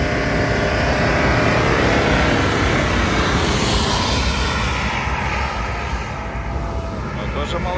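Car engine revving hard at around 4000–4500 rpm in first gear, a loud continuous roar that holds steady for several seconds before easing slightly toward the end.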